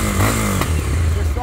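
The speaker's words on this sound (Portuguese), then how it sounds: "Um comando que vocês nem perceberam que a moto está funcionando aqui" Motorcycle engine running steadily after being started through a GP universal electronic touch-sensor lock, a continuous low rumble with a brief clatter midway, fairly close and loud.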